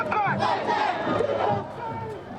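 A street protest march of hundreds of people, the crowd chanting and shouting together loudly and steadily at close range.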